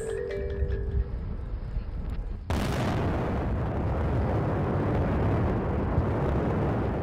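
After a brief quieter stretch, a loud mining dynamite blast erupts into a sustained, rumbling roar of debris and noise that carries on to the end.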